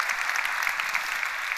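Brief burst of audience applause at a JavaScript conference lightning talk, steady clapping from a crowd at moderate distance, fairly quiet.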